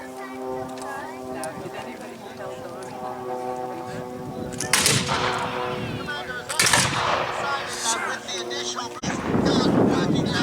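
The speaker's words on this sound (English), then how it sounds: "using the sling from his musket around his foot to stabilize it so he can fire it at long range" Black-powder muskets firing at long range during a historical battle reenactment in Glengarry, Ontario: several loud, broad blasts ring out over a sustained tonal drone in the background.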